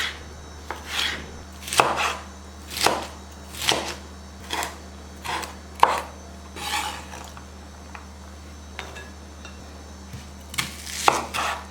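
A knife chops peppers steadily on a cutting board, about a dozen crisp strikes at a relaxed, even rhythm, close up with no talking.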